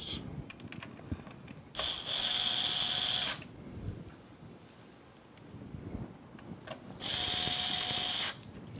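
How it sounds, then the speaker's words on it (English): A low-torque electric screwdriver tightens screws while a CPU cooler is mounted in a PC build, giving two separate high whirring bursts of about one and a half seconds each, close up, with small handling clicks between them. "These are low torque screwdrivers, so just want to get it tight."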